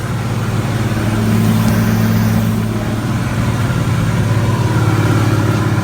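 A truck engine idles close by with a steady, loud, low rumble that holds an even pitch for a few seconds, with no talking.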